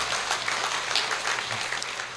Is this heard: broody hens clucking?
no